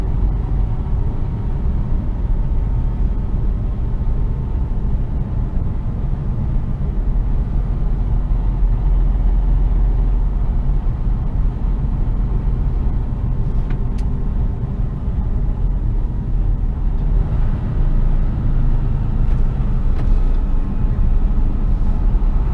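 HGV truck engine rumbling steadily from inside the cab as it drives the perimeter road of Aston Down airfield, a continuous low drone with no pauses for the whole stretch.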